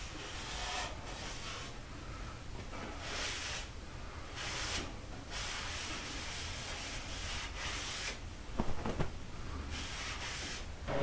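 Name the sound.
rag wiping down stained soft wood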